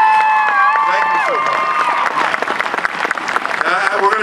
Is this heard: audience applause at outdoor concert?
yes